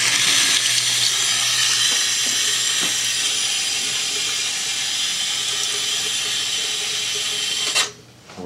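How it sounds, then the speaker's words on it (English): Cold water runs from a household tap into a sink, a steady broad hiss pouring continuously for several seconds before being shut off abruptly near the end, close and fairly loud. "I'm gonna fill it up with cold water."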